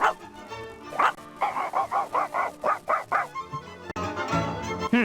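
Cartoonish dog barks from the Nine Worlds Windows 3.1 game, a quick run of about seven evenly spaced yips and barks, fairly close and loud, framed by brief game sound effects.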